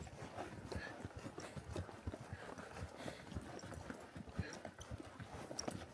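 A mule plods along a dusty cow trail in the Gila Wilderness, hooves falling in a steady, even rhythm of soft, close thuds with a faint rustle between steps.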